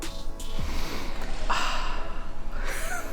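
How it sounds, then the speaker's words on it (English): A person takes a couple of sharp, close sniffs of a new Ramair foam air filter for a BMW E46, quick nasal inhales and breaths. "do we do the sniff test?"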